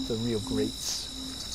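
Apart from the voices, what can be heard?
Carolina ground crickets, bush katydids and tree crickets chirping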